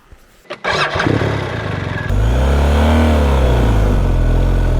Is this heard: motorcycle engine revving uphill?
yes